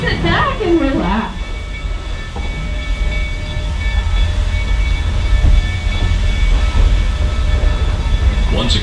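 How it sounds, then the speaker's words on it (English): The 1880 Train, Black Hills Central Railroad steam locomotive No. 110, pulls out of the station with a steady, loud rolling rumble and rail noise, and muffled voices in the background. "As the train pulls out of station"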